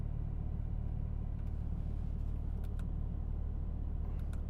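An Audi RS with a V10 launches hard from a standstill, a steady low engine rumble and road roar holding loud and close throughout with no voices.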